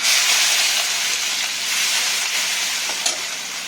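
Green chilli and garlic paste sautéing in hot oil with mustard seeds, cumin and hing, a steady, fairly loud sizzle that keeps going, with a brief sharper crackle near the end.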